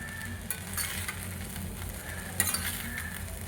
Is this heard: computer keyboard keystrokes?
no